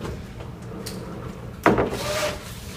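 A retractable ceiling projection screen being pushed down, giving a short scraping, sliding rub with a sharp onset, close by over quiet room tone.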